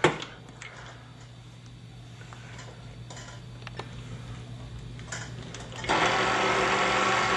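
A bread dough mixer runs at slow speed with yeast and water in the bowl, giving a steady low mechanical hum with light ticking and clatter, growing louder and more churning toward the end.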